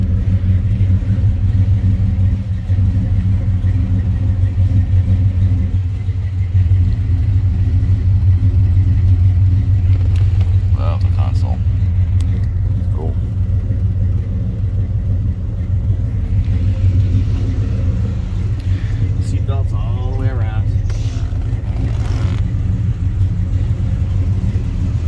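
A 1970 Ford Torino GT convertible with a 351 V8 idles steadily up close, its deep, loud low rumble continuous throughout, with a few faint higher clicks and bursts above the engine.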